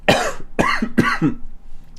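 Three harsh, close coughs in quick succession from a person with a lingering cough, each a loud burst followed by a short wheezy tail.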